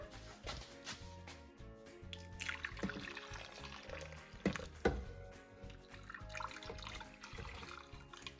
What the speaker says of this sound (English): I'm gonna pour a little bit of this broth in here